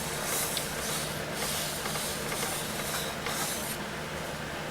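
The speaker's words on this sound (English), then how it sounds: "I'm just using a spray bottle rather than dunk this in the water container" A spray bottle mists water onto a cherry and lacewood potpourri box on a lathe, giving a continuous loud hiss with several short bursts of sharper spraying across the few seconds.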